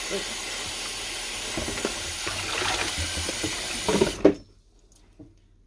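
Tap water runs steadily into a kitchen sink during dishwashing, a close hiss with clinks and handling noises, a voice speaking briefly over it before the flow shuts off and the room goes quiet.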